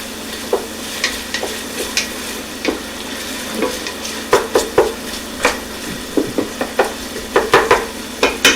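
Garlic frying in a hot pan for butter chicken, a steady sizzle under repeated scraping stir strokes that come in irregular bursts, loudest toward the end, with no talking.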